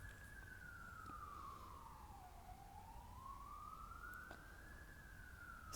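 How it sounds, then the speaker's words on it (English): An emergency vehicle siren passes outside, a single long wail sweeping down and back up in pitch, moderately faint and steady over a low background rumble with no talk. "I got distracted with the siren there."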